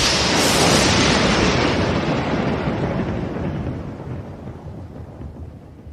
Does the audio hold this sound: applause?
no